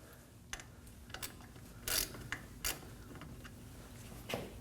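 A brake caliper bolt being snugged up on a 2017-2024 Nissan Armada front brake, heard as a handful of sharp, close ratcheting clicks spaced apart over a low steady background hum.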